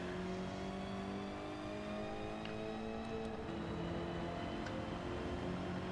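A race car engine in Gran Turismo 7 drones steadily through a TransAm lobby race, multiple harmonic engine tones shifting as it revs, fairly faint and continuous with no talk.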